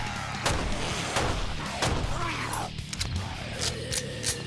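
Gunshots in the video game 7 Days to Die, single loud sharp cracks spaced about a second apart with growls and other game noise between them.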